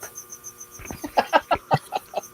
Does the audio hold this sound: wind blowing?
no